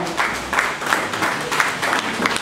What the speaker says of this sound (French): Si on peut encore applaudir pour eux, la deuxième promotion.